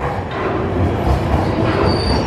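Airport express train in Beijing running on rails, a loud close rumble with wheel squeal and a rhythmic clatter continuing throughout, no talking.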